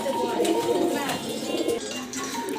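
Pigeons cooing inside a pigeon shop, a steady layered murmur of low coos running throughout, with people talking over them at close range.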